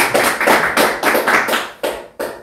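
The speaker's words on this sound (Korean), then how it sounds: "큰 박수로 우리 한번" Audience at a lecture clapping to welcome the speaker, a few loud rhythmic bursts of claps that come in waves and quickly die away.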